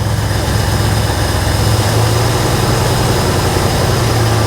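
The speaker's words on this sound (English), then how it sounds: "That's why I was idling so high." A Ford F100 truck engine idles fast and loud because of a sticking throttle, a steady high-revving drone that holds without pause throughout.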